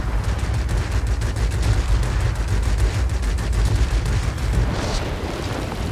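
An aircraft in World of Warplanes makes a strafing run, firing a dense, continuous burst of rapid gunfire over a heavy rumbling roar that lasts several seconds.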